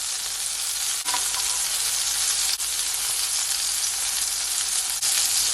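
Butter and garlic sizzling around a steak in a hot pan, a steady dense crackle that runs the whole time with a few faint clicks.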